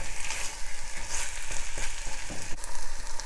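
Kimchi stir-frying in a hot pan, a loud, dense, close sizzle with occasional scraping stir strokes and no talking.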